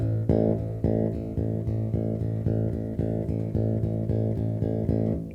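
With a lighter finger attack, a rock bass line pulses in steady repeated notes, about a dozen softer plucks in an even rhythm, each ringing briefly, played solo and up close.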